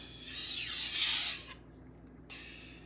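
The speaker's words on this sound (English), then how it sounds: "these are stropping strokes" Steel knife edge drawn in repeated stropping strokes across a strop, a steady broadband rubbing hiss with a pause mid-clip before another stroke begins, close and fairly loud.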